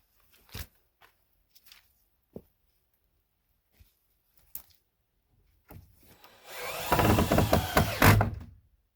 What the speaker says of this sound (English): We're going to go ahead and screw that plank on.